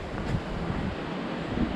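Sea waves and wind outside a beachside tent at a resort in Rayong, Thailand, form a steady, moderate rushing wash with gusty wind buffeting the microphone and no speech.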